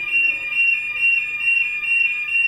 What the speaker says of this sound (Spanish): que saltan las alarmas